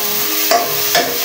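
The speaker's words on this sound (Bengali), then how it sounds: "আদা রসুনটা দিয়া ভাজা নিব" Ginger-garlic paste frying with onion in a pan, heard as two short bursts of stirring and sizzling over a steady low background hiss.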